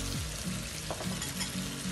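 Softened vegetables including carrot frying in a pan as Chinese-style sweet and sour sauce goes in, a dense steady sizzle with occasional stirring scrapes, close and without voices.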